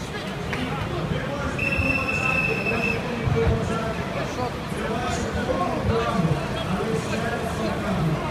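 A high metallic squeal of tram wheels on rails rings out briefly over rumbling rail noise and a crowd of voices nearby.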